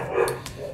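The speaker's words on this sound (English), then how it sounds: "you can hear my dogs in the background. If you can hear them barking" Dogs barking in the background of an indoor room, a short burst of a bark or two that is moderately loud but sounds distant, with no talking.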